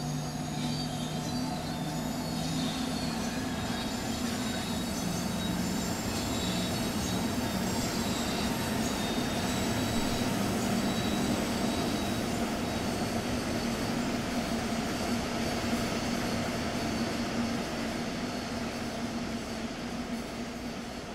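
Train in Train Sim World 3 being towed to a depot between Großenhain and Dresden, a continuous loud rumble of rolling wheels with sustained squealing from the rails, steady and close throughout.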